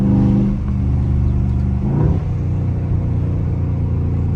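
Loud Dodge Scat Pack V8 engine revving hard while being driven aggressively, a deep, steady rumble throughout with a brief throttle surge near the middle; no talking.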